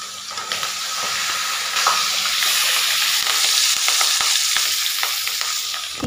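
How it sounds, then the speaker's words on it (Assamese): Fish fries in a pan in a home kitchen, with a loud, steady sizzle and hiss of hot oil and occasional crackles and pops throughout. No one speaks. "এতিয়া মই মাছখিনি ফ্ৰাই কৰি লওঁ"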